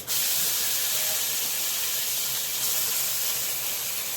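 Homemade ginger garlic paste hisses in a spoonful of hot ghee while palak dal is cooked, a bright, steady sizzle that holds at a constant level close by.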